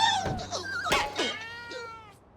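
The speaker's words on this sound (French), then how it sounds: "Oh oui, c'est vrai. Le chat." A cartoon cat gives a few drawn-out, expressive meows, close and clear, with wavering pitch and a yowling edge.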